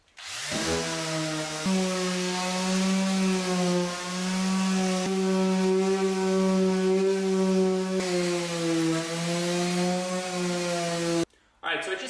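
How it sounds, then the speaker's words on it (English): A power sander runs steadily and loudly on a sheet laminate countertop with a droning whine, cutting out briefly near the end before starting again. "So I'm going to go ahead and just clean it up a little bit using this sander here."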